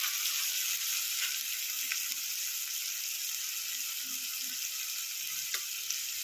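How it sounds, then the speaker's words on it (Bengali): Tomato paste is stirred into a frying pan for a Bengali pabda fish curry, a steady, even hiss of frying with faint, occasional stirring scrapes and a few soft clicks. "টমেটোটা দিয়ে একটু সুন্দর করে নেড়ে নেব"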